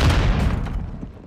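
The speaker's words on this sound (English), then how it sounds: "Oh fuck, no, there's another person throwing a grenade." A grenade explosion in the video game DMZ, a loud close boom at the start that rumbles and decays over about a second, with no talk.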